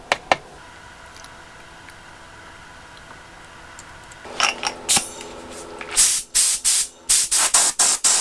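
A spray gun sprays paint onto a motorcycle gas tank for a TS185, first quiet with a few clicks, then bursts of hissing spray that grow into loud, regular pulses of air and paint near the mic.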